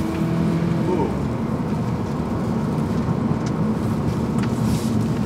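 An Audi A1 1.4 TFSI with S tronic gearbox is driven hard around a circuit, giving a steady, loud engine and road roar with a brief whine early on and a continuous broadband rush throughout.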